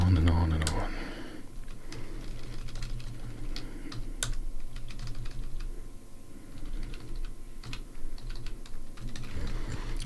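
Close, quiet typing on a computer keyboard, with rapid irregular clicks and taps running under a voice.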